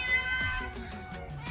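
A house cat meows close by, one drawn-out tonal cry followed by softer, broken vocal sounds, clear against a quiet room.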